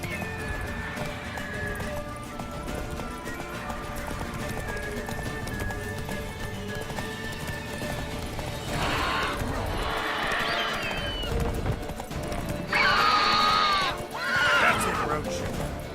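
Roach the horse in The Witcher 3, galloping with rapid clip-clop hoofbeats and letting out loud whinnies, set against game music and bursts of combat noise, with voices talking.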